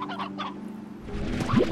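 Hens in the video game Slime Rancher give short clucking calls, a few brief squawks early on and then a louder rising cackle near the end, with no talking.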